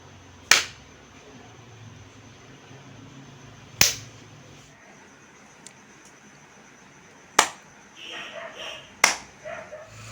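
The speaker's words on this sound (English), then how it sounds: "Now I'm going to clap." Four sharp, crisp hand claps sound close by, spaced a few seconds apart and irregularly timed, over a quiet room with low background noise. They are meant to trigger a sound-controlled digital dice project.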